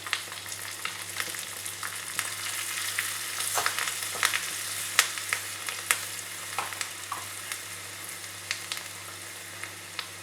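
Dried red chillies and Kashmiri chilli powder frying in hot oil as a tempering for dhaba-style dal fry, a steady bright sizzle with scattered pops and crackles, close and continuous with no voices.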